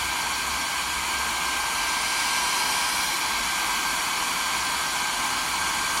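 A hair dryer runs steadily and loudly at close range, drying a handmade mini flower pot made from recycled materials in a craft class. The broadband whoosh holds constant for about six seconds with no talk.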